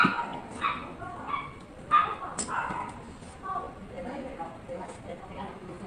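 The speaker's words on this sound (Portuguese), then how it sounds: "Os cachorros latindo" Several dogs bark and yip in short bursts at a distance, some whimpering, while a person talks nearby.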